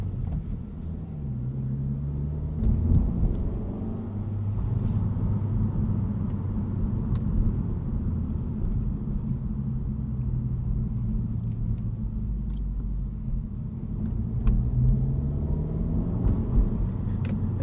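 A 2022 Honda Civic Si engine gives a low, throaty rumble at low revs, heard steadily from inside the moving car with road noise and no talk.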